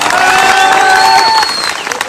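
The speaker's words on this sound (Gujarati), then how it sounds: "એક વાર જોરદાર તાળીઓ પાડો" A crowd at a political rally after an election result breaks into loud clapping and cheering, a dense close roar of hands with voices ringing over it.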